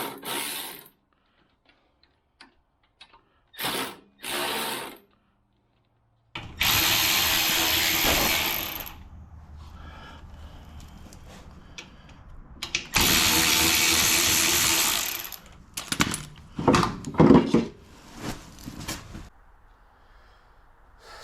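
Ratchet loosening the slotted mounting bolts of a snowblower's electric starter, heard as bursts of rapid clicking and two longer, louder stretches of ratcheting with short pauses between, close and alone without talk.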